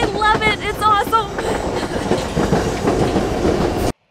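White Pass excursion train near Skagway, Alaska, rolling along its rails with steady rumbling and rhythmic wheel clatter, loud and close, joined early by a short squealing, whistle-like tonal sound before the noise cuts off abruptly at the end.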